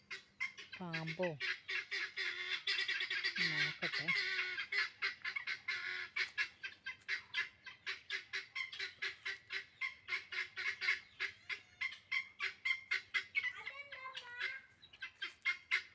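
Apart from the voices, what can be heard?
chickens squawking loudly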